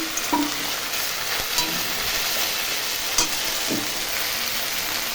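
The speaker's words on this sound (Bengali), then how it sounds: "মশলাটা ভাজা ভাজা হচ্ছে।" A spice mix of dried and green chilli, cumin, ginger, salt and turmeric frying in oil in a pan gives a continuous close sizzle, with a few spatula scrapes and clicks while being stirred.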